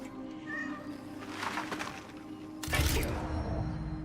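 A cat meows in the game Cronos: The New Dawn, a brief faint call early on before a loud crackling burst of noise takes over.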